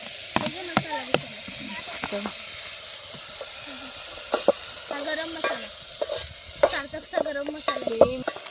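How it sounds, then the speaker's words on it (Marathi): Chili and tomatoes sizzle and hiss as they fry in oil in a pan at an outdoor village party, with a steady fry under sharp clinks of a stirring spoon; a voice talks briefly between stirs. "तर आता ह्याच्यामध्ये आपण टमाटर टाकतोय"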